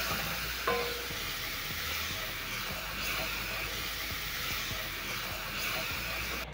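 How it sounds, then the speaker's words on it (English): Milk is stirred into a flour and onion roux in a pan for creamed spinach, giving a soft, steady hiss and sizzle with faint stirring scrapes throughout, quiet and close. "I'm going to add in some milk as I stir"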